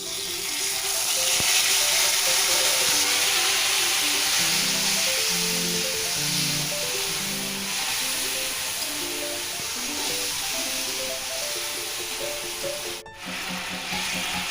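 Spice paste hitting hot oil in a pan for Bengali village-style dhokar dalna, a loud, steady close sizzle with stirring and scraping, soft music playing faintly underneath.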